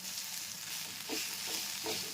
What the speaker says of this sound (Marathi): आता तेल घालून जरा भाजायला घेतले की एवढंच झालं.